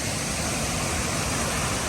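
River running unusually high at Cascade Park, pouring over and around submerged rocks, a loud, steady, close rushing roar with no voices.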